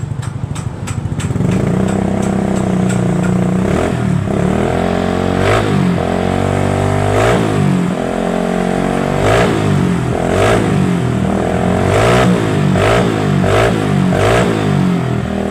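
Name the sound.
Honda Beat motorcycle revving with modified exhaust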